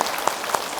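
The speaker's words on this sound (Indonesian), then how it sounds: "Tepuk tangan untuk Ustaz Zaki Muhammad" A gathered audience at a religious gathering claps for an invited preacher, a brief dense patter of many hands with a few sharper claps standing out.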